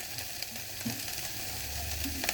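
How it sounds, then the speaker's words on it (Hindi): Grated ginger drops into cauliflower (gobhi) frying in oil in a pan, a constant close hiss of sizzling with a couple of brief stirring clinks. "अब हमने जो ये अदरक कद्दूकस कर ली हुई थी, ये भी हम इसमें डाल देते हैं"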